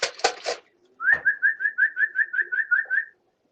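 A racing pigeon arriving at the loft during trapping coos in a rapid, even series of about a dozen soft whistled notes, close and clear, after a few short fluttering sounds.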